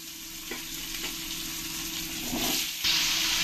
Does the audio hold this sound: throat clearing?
no